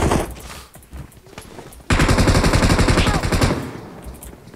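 Rapid bursts of automatic gunfire in the mobile shooter PUBG Mobile, sparse and quieter at first, then a loud, sustained rattling volley from midway that fades slightly toward the end, with no talk.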